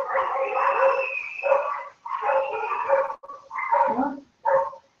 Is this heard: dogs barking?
yes